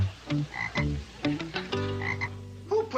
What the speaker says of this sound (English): Who put this ugly frog on my desk?